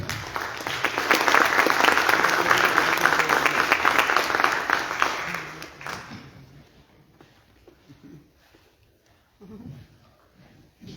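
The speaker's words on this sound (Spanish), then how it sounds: "a quien también recibimos, por supuesto, con un fuerte aplauso" Audience applause at a formal university event welcomes a speaker, a loud sustained burst of clapping that stops abruptly after about six seconds, leaving quiet room sound and faint movement.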